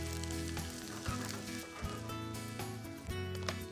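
Chopped chili with its seeds sizzling steadily in a hot pan, a continuous bright frying hiss with a few soft scrapes of stirring, close and alone with no talking.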